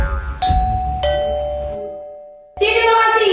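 A home doorbell rings twice in close succession, bright ding-dong chimes with a lingering tone that fades, followed by a burst of other busy sound.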